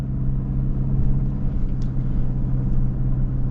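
A Toyota off-road vehicle crawls slowly over rock in rock mode with traction control active, giving a low, steady engine rumble close by, with faint clicks above it and no voices.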